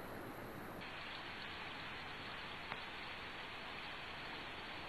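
Heavy downpour in Gürün, Sivas, Turkey, a steady dense hiss of rain falling on surfaces throughout, with a brief sharper tap partway through and no voices.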